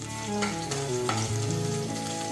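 Garlic sizzles in hot oil in a pan for a spring onion sabji, a steady close frying crackle with stirring scrapes and musical tones in the background.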